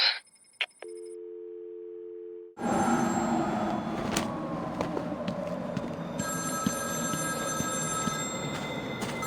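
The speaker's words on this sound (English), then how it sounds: "Answer my phone and answer it quick" A payphone in the Batman: Arkham City game gives a few brief electronic tones at the start, then a brief silence, then a dense, steady rumble of ambient noise fills the rest.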